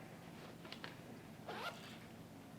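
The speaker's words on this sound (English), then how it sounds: "You zip it up" A zipper closes on a police uniform fitted with a body-worn camera: two short, quiet zips, the second longer and brighter, against a hushed room background.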